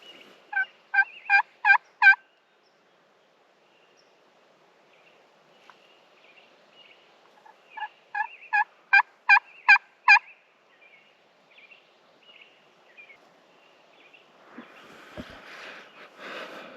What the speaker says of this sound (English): Gobble's coming from down the ridge.